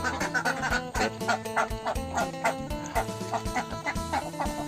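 Laying ducks on a duck farm at morning feeding time, a dense flock quacking and clucking continuously, close and loud with overlapping calls throughout.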